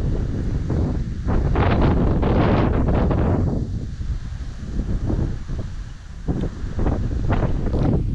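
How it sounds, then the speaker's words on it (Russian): Strong gusting wind buffets the microphone in loud, rumbling blasts that surge and ease, with no voices. "Еще ветер разыгрался, конечно."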